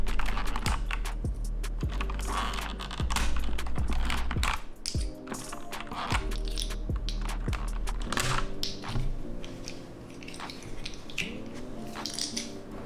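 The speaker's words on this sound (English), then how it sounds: "let's put these on the keyboard and see how they look" Artisan resin keycaps are pressed onto a mechanical keyboard, giving a run of small plastic clicks and taps close up over a steady low background hum.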